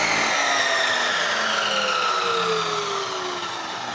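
A portable table saw switched on and running, a loud close motor whine that holds steady with a slight downward drift in pitch, no talking.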